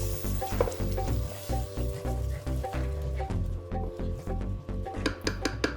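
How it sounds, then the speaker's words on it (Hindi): Spices, tomato and whisked yogurt sizzle steadily in a pan while a spoon stirs and scrapes, with occasional metallic clinks against the pan; continuous moderate frying with no voices. "आपके मसाले भी भुन रहे हैं और साथ में दही का कच्चापन भी मर रहा है"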